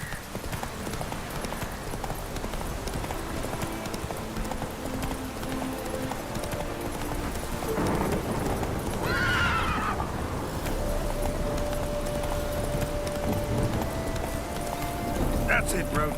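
The horse Roach in The Witcher 3 gallops with steady hoofbeats and gives a loud neigh partway through, with game ambience and a voice speaking over it.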